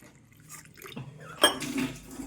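After a few quiet clinks, a short splash and trickle of boiled, cooled water is poured into a pot with cumin and pepper powder, close by and brief.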